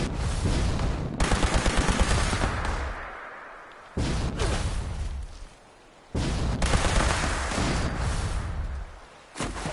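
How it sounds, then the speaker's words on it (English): Gunfire from enemies attacking the player's house in Fallout 76: loud, close bursts of rapid automatic shots and heavy impacts come in three long volleys with brief lulls between them, and no one speaks. "there's always something shooting at my house"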